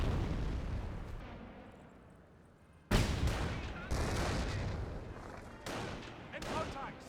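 A half-track fires a barrage in the Company of Heroes battle game, with sudden loud explosive blasts striking in succession, each followed by rumbling decay over ongoing battlefield noise.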